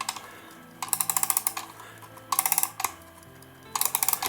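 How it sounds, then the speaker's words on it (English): Mainspring of a Soviet Majak desk clock being wound, giving three bursts of rapid ratchet clicks separated by short pauses, close and fairly quiet. "I'm going to have to wind the spring up, thereby lessening its diameter"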